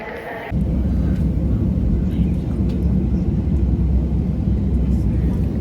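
Steady loud airliner cabin drone on a flight to Dubai, a continuous low rumble filling the whole span after a brief quieter start, with faint talk beneath it.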